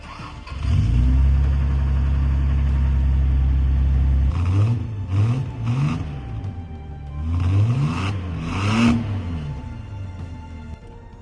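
A 1981 Toyota Supra cranks and fires on a cold start, settling into a loud, steady high idle before dropping lower, followed by several rev blips and a rough, uneven idle with no talking.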